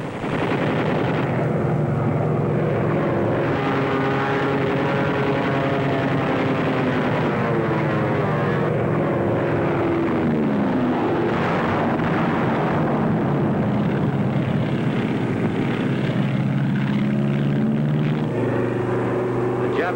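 World War II aircraft engines drone loudly and continuously over the Marshall Islands, the pitch rising and falling as planes pass overhead, with no other sounds breaking through.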